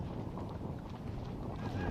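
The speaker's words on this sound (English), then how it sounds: "Again, the gusts have just picked up again." Gusty wind at a T10 cricket ground buffets the microphone as a dense, rumbling roar that swells slightly toward the end.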